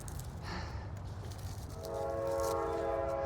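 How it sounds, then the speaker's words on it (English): A train passes at a distance beside a patio garden, a low rumble building before a sustained, steady horn blast that carries through the end. "Now there's a train going by"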